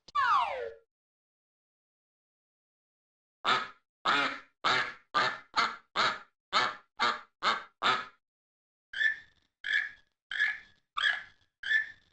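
A duck call from The Magic School Bus Explores the World of Animals game: a quick rising cry, then a pause, then a steady series of about fifteen sharp, evenly spaced quacks, close and clear with silence between.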